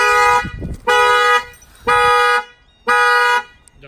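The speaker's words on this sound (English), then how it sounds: "the alarm will fire off" An Infiniti Q50 factory car alarm blares close and loud in three identical harsh electronic horn bursts, each about half a second long and separated by short pauses.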